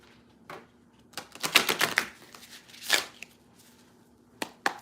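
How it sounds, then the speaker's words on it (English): A deck of tarot cards shuffled by hand indoors, with quick papery riffles and taps in short uneven bursts, fairly quiet and close, and no talking. "Giving a little bit of a shuffle here."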